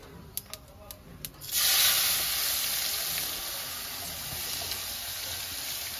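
Whole cumin and chopped onion dropped into hot oil for a Bengali fish curry: a few light taps, then a sudden loud sizzling hiss that holds steady and close, easing only slightly.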